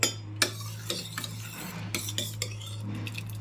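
Cooked lentils are stirred in a pressure cooker after it has cooled, with repeated metal spoon scrapes and clinks against the pot over a steady low hum.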